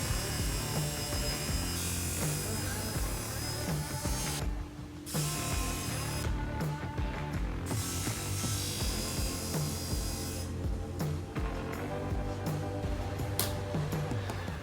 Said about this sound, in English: And now it's time to cut the inside piece.